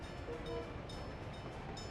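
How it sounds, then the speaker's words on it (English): Tourist train in the city-building game Workers & Resources, a steady low rumble of rolling rail cars with faint mechanical tones running continuously, fairly quiet and without speech. "And here is our first, tourist train."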